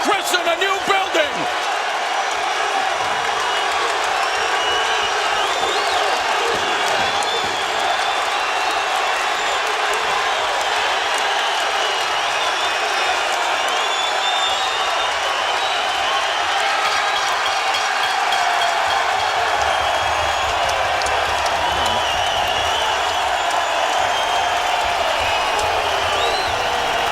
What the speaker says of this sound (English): A deafening roar from the crowd at the Videotron Center in Quebec City.